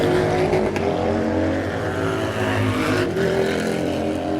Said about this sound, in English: A lot of it has to do with the sound of the motorcycles themselves.